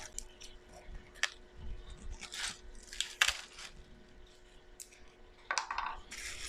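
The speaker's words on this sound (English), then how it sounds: "I'm going to start emptying this beauty into my colander." Dry sunflower seeds tipped into a colander, giving bursts of light rattling, ticking and pattering spread unevenly over several seconds, close and fairly quiet, with no talking.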